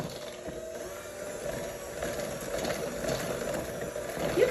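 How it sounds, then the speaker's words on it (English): Electric hand mixer whirring steadily as it mixes butter and sugars for chocolate chip pudding cookie dough, a close, continuous mechanical drone that grows slightly louder toward the end, with no talking. "Mix it up with the mixer just a little bit so it gets into the sugars and the butter."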